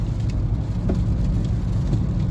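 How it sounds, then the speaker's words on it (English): Rain falling under a bridge with traffic noise, a steady dense patter and rumble that fills the whole stretch at a loud level, with no voices. "Looks like we've got some rain under this bridge or something"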